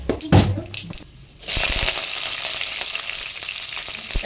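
Cumin, mustard seeds, chana dal, urad dal, curry leaves and green chillies hit hot oil, giving a loud burst of spluttering after a brief stir, then a steady close sizzle that holds to the end.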